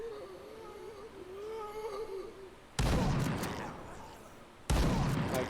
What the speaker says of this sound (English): the guns are just troublingly loud, and they bellow outwards